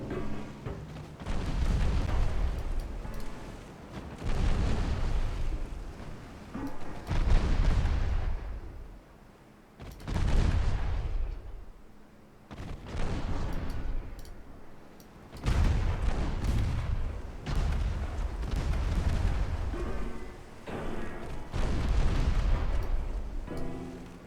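Naval guns firing high-explosive shells in a warship game, heavy booming salvos arriving every few seconds with rumbling tails between them, loud and close.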